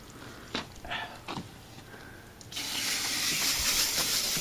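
Garden hose spraying water into an outdoor air conditioner unit at low water pressure: a few scattered knocks and clatters, then a steady, loud hiss of spraying water that continues to the end.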